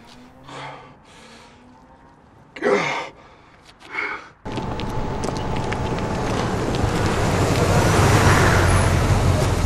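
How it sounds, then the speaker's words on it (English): A car in the film No Country for Old Men pulls up and stops, its engine rumble swelling and then holding steady and close, after a few soft breaths and rustles in a quiet outdoor scene. "The car arrives and stops in front of him"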